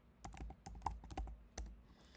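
Quiet, close typing on a computer keyboard, a quick run of uneven clicky keystrokes with short pauses, alone with no talk.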